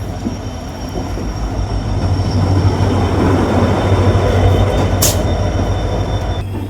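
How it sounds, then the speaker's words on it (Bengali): Kanchanjunga Express pulling into a station platform, a loud continuous rumble of wheels and carriages with a low steady drone, a faint squeal and a short sharp hiss near the end, no talk. "তো আমাদের ট্রেন চলে এলো, আর একটু লেট করেছে, 10 মিনিট লেট করেছে।"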